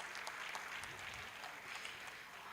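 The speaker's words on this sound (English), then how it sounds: "Please, a round of applause for him again." An audience claps again for a guest at a university career seminar, faint, continuous crowd applause heard from a distance with no clear individual claps.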